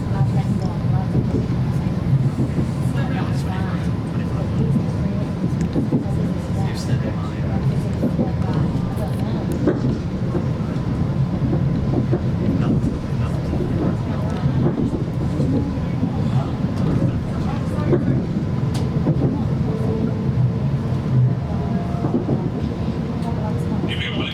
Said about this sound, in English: This is a Transpennine Express train to Scarborough